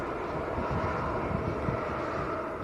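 Jet airliner climbing out after takeoff at Manchester airport, a steady broadband engine roar holding at fairly constant loudness throughout, with no talk over it.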